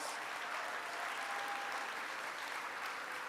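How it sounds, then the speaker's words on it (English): A crowd applauds for Commissioner Sid Miller, a steady, dense wash of clapping that holds at an even level for about three seconds. "Let's give Sid Miller a round of applause"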